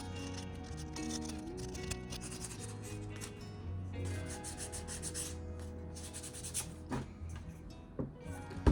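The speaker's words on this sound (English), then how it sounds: "All I'm gonna do now is sand the eye holes" Sandpaper rubs around the eye holes of a small wooden owl decoration in quick back-and-forth strokes, a close, steady scratchy rasp with brief pauses and a few knocks near the end.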